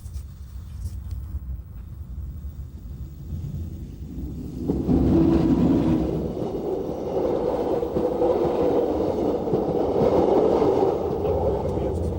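A distant rumble swells into the steady, rolling roar of a Glacier Express train passing along Switzerland's Albula Line, continuing at a constant level.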